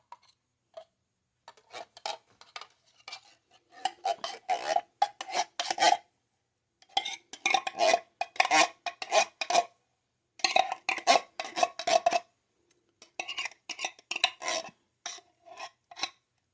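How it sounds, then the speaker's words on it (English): A spoon stirring soup in a pot on a home stove, giving repeated scraping and rasping strokes in uneven bursts with short pauses, close and fairly quiet with no voice over it. "I'm just going to stir all this together"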